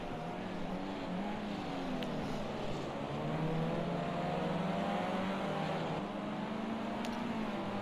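Formula C race cars accelerate on a circuit, engines climbing and dropping in pitch as they pass through a tight section, a continuous mid-distance drone with overlapping whines and no speech.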